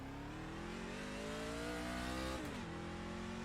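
Race car engine in the iRacing sim on an oval under the lights, winding up steadily through the revs before a brief dip at a shift, then climbing again, loud and alone.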